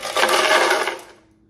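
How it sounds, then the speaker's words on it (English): Ice cubes tumble into a Nama C2 blender jar in a loud, dense clattering burst lasting about a second, then quickly fade to near silence. "I have some ice here, and I'm gonna go ahead and place it into the blender."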